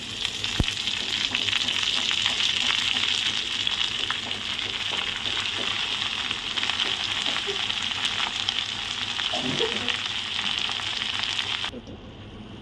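Spinach with green chilies cooking in a pan, a steady loud sizzle and bubbling that continues throughout, with a brief stirring scrape near the end before the sound drops off.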